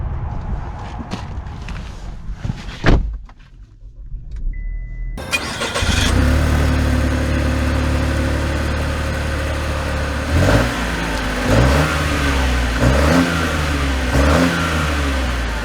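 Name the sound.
Chevy Trailblazer engine starting and revving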